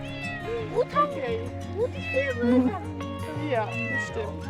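A cat meows several times in drawn-out, complaining cries over a steady low hum, with voices talking in the background, at an animal rescue in Tenerife.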